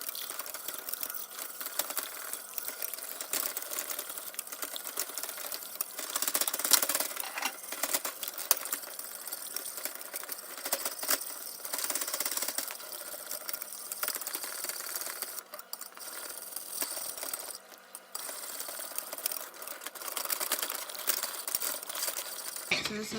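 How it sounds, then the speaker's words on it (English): A whisk scrapes and clicks briskly in a pan of thickening turkey pot pie sauce, a busy, irregular rattling that continues throughout at moderate loudness. "I'm going to whisk this until it's just a little bit thicker"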